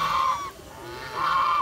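A goose on a mixed farm gives two loud, nasal honks about a second apart, close by, over a faint background of other farm sounds.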